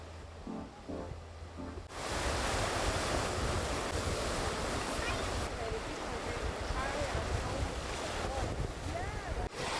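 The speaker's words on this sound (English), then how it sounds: "This is the way to the beach. A beautiful beach with turquoise waters and a spectacular cliff." Ocean waves roll in at a beach with turquoise water below a cliff in Sicily, a loud steady surf roar mixed with wind buffeting the microphone, after a brief stretch of voices at the start.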